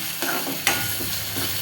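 Ginger, garlic and green chili paste fries with onions in a pan, giving a continuous sizzling hiss broken by a few scraping stirs of a spoon, close and moderately loud.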